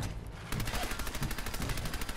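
Rapid automatic gunfire from a gun in the video game Fallout, a dense, loud burst of repeated shots that starts abruptly and continues without pause.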